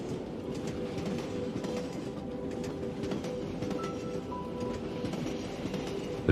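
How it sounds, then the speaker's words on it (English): Steady rumble and hum of a moving train carriage with faint rhythmic rail clacking, a continuous even drone heard alone throughout. "The train's rhythm moves through you, clack and hum."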